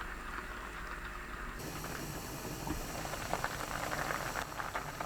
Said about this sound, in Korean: 당근 넣어 끓이세요